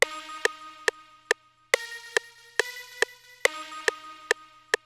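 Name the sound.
jungle pad counter melody one-shot in a beat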